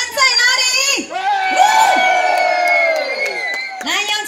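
A crowd at a temple celebration in Taiwan, honoring a martial-arts procession troupe, lets out loud, sustained high-pitched screams and cheers, with a short dip before the roar resumes and carries on to the end.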